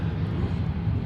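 An Embraer 175 jet airliner takes off at Seattle airport, its engines a loud, steady low roar close by, with no talk.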